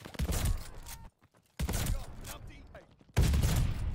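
Bursts of gunfire in Call of Duty Vanguard, a four-player free-for-all match, come in three dense loud clusters separated by short gaps, the last burst the heaviest.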